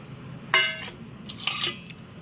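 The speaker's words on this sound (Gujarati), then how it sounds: "એમાં આપણે ચોખા નાખી દઈશું।" Dry rice grains pour into a metal vessel, two short rattling bursts with a metallic ring, fairly close and quiet, with no talking.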